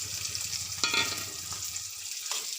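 Grated coconut and shallots fry in a pan, a steady close sizzle with a couple of scraping stirs breaking through.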